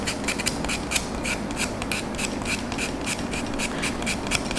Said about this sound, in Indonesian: mau dihaluskan bisa pakai amplas, digosok-gosok aja supaya halus